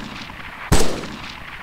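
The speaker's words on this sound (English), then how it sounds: "He's firing at us." Video game gunfire from an enemy gunner, a single sharp, loud shot bursting out of a low background rumble and trailing off quickly.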